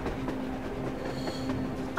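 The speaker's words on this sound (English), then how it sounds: "A working, moving train." A moving train rolls past in the post-apocalyptic game Metro Exodus, a steady rumbling clatter with a sustained low hum and faint clicking, heard alone without talk.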